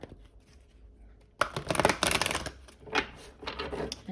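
A deck of tarot cards is shuffled in a quick riffling burst that starts partway through, loud and close with crisp flutters and a brief pause before a final flurry, alone without talk.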